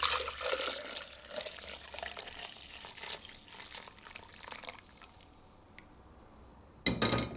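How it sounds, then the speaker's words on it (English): Chardonnay wine jelly liquid pours from a pan into a jug, giving a steady close trickle and splash for several seconds. It thins toward the end, then a brief clatter follows. "I'm going to pour this into a jug first"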